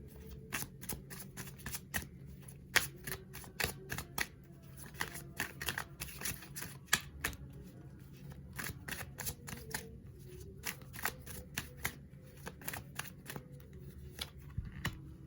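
Tarot cards are shuffled and handled at close range, giving a long run of crisp snapping and riffling clicks with irregular rhythm over faint room noise.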